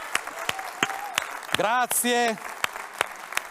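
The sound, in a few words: audience applause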